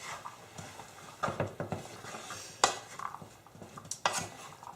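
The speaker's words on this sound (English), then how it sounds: "Mix it all up." A spoon stirring a black bean mixture in a cooking pot, making irregular scraping knocks and soft clinks that come close together, quiet and near, with no speech.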